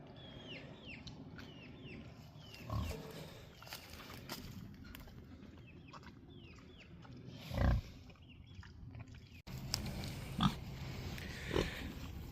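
Pigs in a farrowing barn give faint, scattered grunts and snorts, with a couple of louder bursts and soft shuffling over a quiet barn background.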